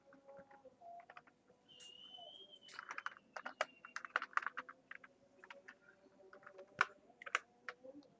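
Quiet, close keystrokes tap on a computer keyboard as a Ctrl+B save shortcut is typed, with a quick irregular patter of soft clicks and small pauses between them.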